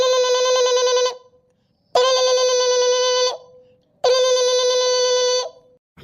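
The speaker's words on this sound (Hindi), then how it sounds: "देखो केकर फोन हुआ" A telephone rings in three long electronic bursts, each about a second and a half, separated by short silences, loud and close with no one talking over it.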